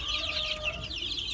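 A small young rooster clucks repeatedly in a poultry pen among bantam and standard breeds such as Pekin, Orpington and Brakel, the calls close and steady with other fowl chattering in the background.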